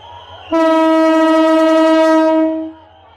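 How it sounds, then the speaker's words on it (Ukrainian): A loud, sustained passenger-train horn in India blares close by for about two seconds before fading, over a low rumble. "Так місцеві подорожують переповненим потягом"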